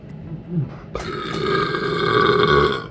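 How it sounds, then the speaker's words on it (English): A loud, drawn-out burp after drinking sparkling water, starting about a second in and rumbling on thickly for nearly two seconds, close to the mic with a faint breathy sound before it. "I feel like I got another burp coming."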